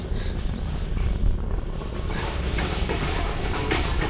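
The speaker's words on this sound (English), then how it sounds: "Why is there always noise when I turn on the camera?" A camera's mechanism runs right after it is switched on, giving a steady, fairly loud mechanical whir with faint creaking and ratcheting texture throughout, with no talking.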